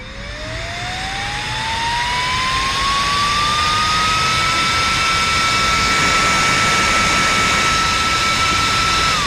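Engine cooling fans on a Harley Dyna Low Rider S spin up to a loud, steady, jet-like whine, a rising tone settling into a constant high hum over a broad airy rush.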